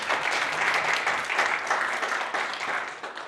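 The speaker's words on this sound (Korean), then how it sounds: "큰 박수 부탁드립니다" Attendees applaud after a morning lecture on waste management in a job-training course, a dense, even wash of clapping that stays loud throughout.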